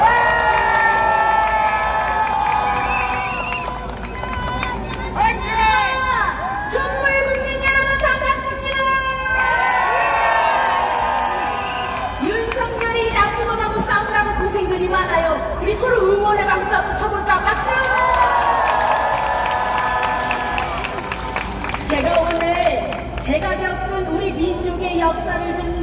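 A crowd at a candlelight protest rally cheers and shouts in a dense, loud, unbroken roar, with excited voices and chatter rising over the crowd throughout.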